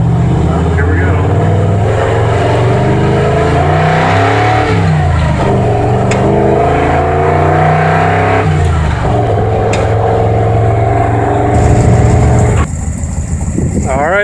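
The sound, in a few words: engine running with rebuilt Autolite 4100 carburetor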